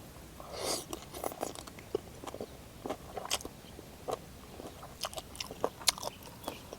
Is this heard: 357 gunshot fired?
no